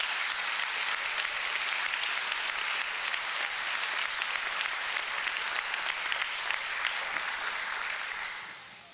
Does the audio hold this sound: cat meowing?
no